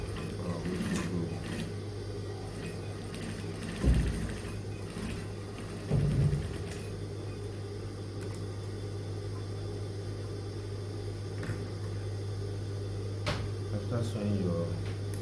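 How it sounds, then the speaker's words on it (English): A sewing machine stitches a dart in a pair of trousers, a low steady mechanical whirr over a constant hum, with a couple of brief louder knocks partway through. "Now I want to sew the dart of my trouser"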